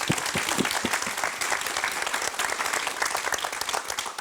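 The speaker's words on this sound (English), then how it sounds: "Applause." Lively applause from the audience at a university centennial presidential panel, close and loud, with crisp individual claps standing out in a continuous patter for the whole stretch.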